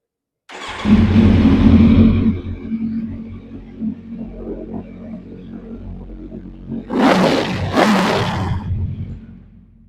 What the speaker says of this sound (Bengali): গাড়িটা স্টার্ট করে সাউন্ডটা শোনাবো।